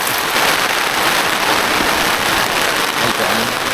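Heavy rain pours down steadily at a campsite in Atok, a dense, loud hiss of drops drumming on surfaces with no pauses.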